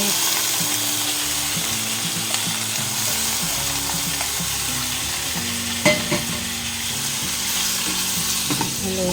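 Squid adobo is stirred in a hot pan, a steady loud sizzle with a spatula scraping and clacking rhythmically against the metal throughout, no talk.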